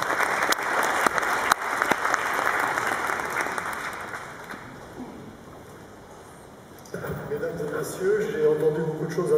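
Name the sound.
audience applause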